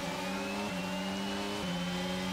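F1 22 race car engine in the video game at the Bahrain Grand Prix, a steady high-pitched whine that shifts pitch sharply twice as gears change, continuous and close with no talking.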